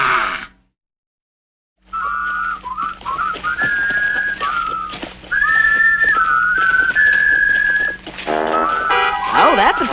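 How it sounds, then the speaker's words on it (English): Someone whistles a bright, wavering tune in a 1984 Lucky Luke cartoon, loud and close, following a short silence and a few grunts, with busy cartoon sound effects and voices joining near the end. "I wish I could whistle"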